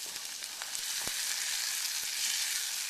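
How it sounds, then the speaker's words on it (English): A steady, close sizzle of green onion frying in a pan, bright and hissing, with a few faint pops and ticks and no talking. "we're just going to cook that onion long enough to start browning the white stuff in it."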